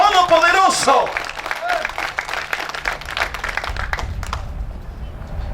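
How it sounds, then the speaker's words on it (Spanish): A church congregation bursts into sustained applause and clapping after a preacher's call, loud and dense at first, with a voice speaking over the opening moment before the crowd noise settles into steady clapping. "Dale un aplauso al Señor"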